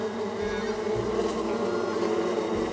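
Bees buzzing in the video game Psychonauts 2, a close, continuous droning hum with overlapping wingbeat tones and a few low thumps beneath.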